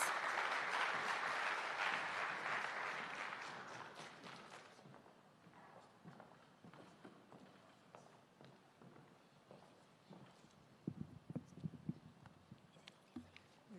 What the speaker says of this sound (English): Give her a round of applause as she comes, please.